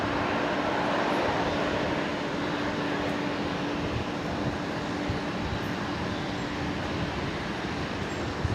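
A Qantas jet airliner at Brisbane Airport lines up on the runway, a steady broad engine roar with a faint sustained hum, heard at a distance and continuous throughout.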